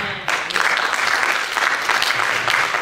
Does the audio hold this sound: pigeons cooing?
no